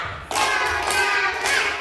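A classroom group claps hands together in a dense burst of overlapping applause-like clapping, loud and close, lasting under two seconds.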